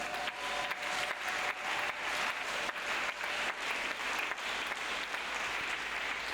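A church congregation applauds steadily through the whole stretch, a dense, sustained wash of clapping with no speech over it.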